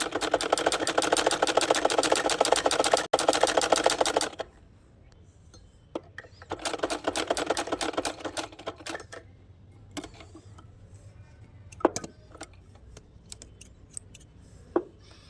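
Sewing machine stitching the third side of a piece of fabric for a bridal lehenga, a loud rapid whirring burst for about four seconds, then a second shorter run, followed by scattered clicks and handling noises.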